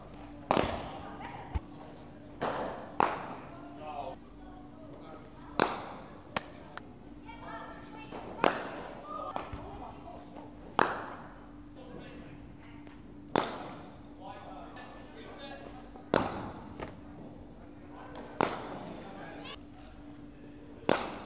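A cricket ball cracks off the bat again and again in a net session at Lord's. The sharp hits come at fairly regular intervals, with a constant hum underneath and occasional voices between shots.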